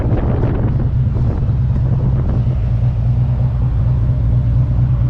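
Steady, loud wind buffeting the microphone of a motorcycle passenger riding through Tennessee, a constant low roar with engine rumble underneath and no talking.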